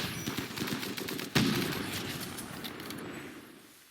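RimWorld gunfire crackles in rapid bursts of small-arms shots with one louder, sharper report midway, its tail decaying slowly into quieter scattered pops, moderately distant and without talk.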